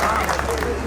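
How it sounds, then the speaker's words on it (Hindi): An audience at a patriotic poetry stage show breaks into applause, a short burst of massed clapping with crowd noise beneath it. "एक बार जोरदार तालियां बजाइए"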